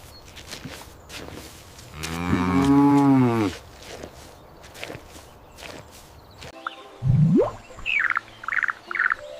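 A cow lets out a single long, loud, close moo of about two seconds, set among clicks and footsteps. Later come a rising call and a few bright chirps.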